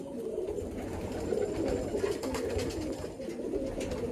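Pigeons coo in a loft near Baruipur, a continuous layered murmur of low throaty calls from several birds. The cooing is close and steady throughout.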